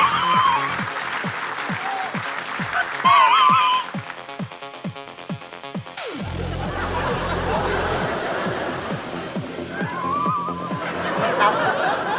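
An audience applauds loudly at a women's club stage show, clapping dense and steady for several seconds, then fading under a man's speech amid light laughter and chatter from the crowd.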